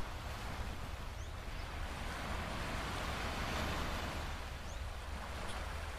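Ocean waves at sea wash in a steady, continuous broadband rush with some wind noise, loud and unbroken throughout, with no voices.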